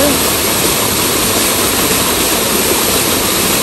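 Water drains from a swimming pool at a mountain spring resort, a loud, unbroken rushing roar that stays constant throughout with no pauses.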